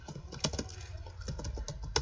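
Quick typing on a computer keyboard while entering a command to configure a network switch, light irregular key clicks close by and soft, with no talking.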